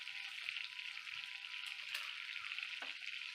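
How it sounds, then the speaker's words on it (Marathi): Butter sizzles steadily in a hot pan while a Kashmiri shahi methi paneer is cooked, a constant close frying hiss with a few small clinks of a utensil and no talking. "तर आता मी ह्यातमध्ये बटर टाकून घेतलंय."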